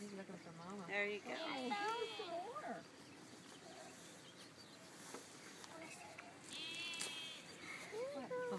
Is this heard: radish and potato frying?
no